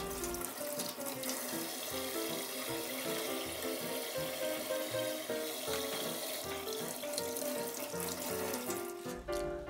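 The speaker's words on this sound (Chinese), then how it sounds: "稍微冲洗一下" Water runs steadily from a kitchen tap as prawns are rinsed in the sink, a close, continuous splashing with small shifts as the stream hits the shellfish and hands, with no talk.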